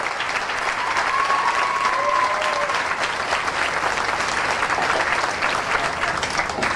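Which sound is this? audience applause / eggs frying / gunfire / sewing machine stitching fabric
audience applause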